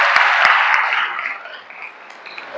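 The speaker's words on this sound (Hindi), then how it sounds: "सिलेक्शन अपने लिए एक बार ताली बजाओ" A classroom of students applauding together, a dense broadband burst of clapping that starts loud and gradually thins out and fades over a few seconds.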